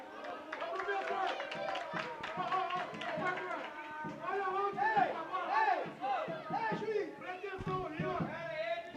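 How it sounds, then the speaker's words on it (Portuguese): A football crowd in the stands at a youth match between Guarani and Internacional de Limeira, shouting and chanting together in loud, ragged bursts of many voices that rise and fall. "A torcida gritou"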